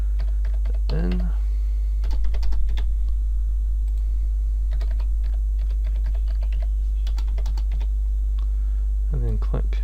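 A password is typed on a computer keyboard in quick bursts of close, crisp key clicks over a steady low hum, with brief speech at the start and end.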